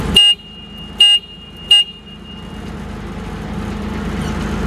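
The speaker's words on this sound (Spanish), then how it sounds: "Arriba de a un lado del volante tenemos lo que es el claxon." Horn of a Hyster H135XL2 gas sit-down forklift: three short, loud beeps, the first two about a second apart and the third soon after, then a low engine idle continues.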